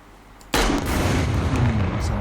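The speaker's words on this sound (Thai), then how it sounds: "เดี๋ยวผมลองเอาปืนระเบิดยิงเด้อๆถอยห่างหน่อย" An explosive launcher fires in the survival video game SCUM, a sudden loud blast followed by a sustained, rumbling roar that fills the rest of the moment.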